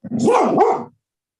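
A single drawn-out dog bark or howl-like yelp, close and loud, with a wavering pitch, followed by silence.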